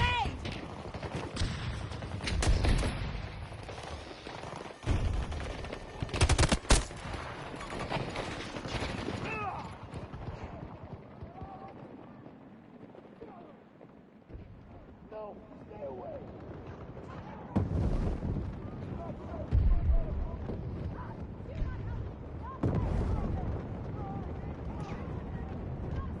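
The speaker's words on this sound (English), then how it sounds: "Tossing grenade!" Battlefield combat with a grenade blast and bursts of gunfire, loud shots and explosions scattered through the scene, mixed with shouted voices and radio chatter.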